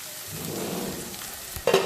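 Onions and green chillies sauté in a pan with a steady, close sizzle, ending in a brief clatter of stirring.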